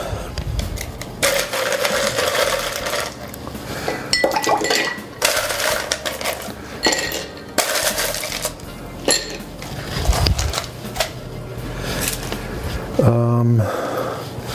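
Ice cubes dropped into a cocktail glass while mixing a drink, clinking and rattling in bursts with glassware and utensil knocks, a person talking over it.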